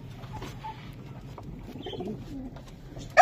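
Pigeons perched outside coo softly in a low, continuous murmur, with faint background noise and a sharp brief knock at the very end.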